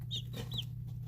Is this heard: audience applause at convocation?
no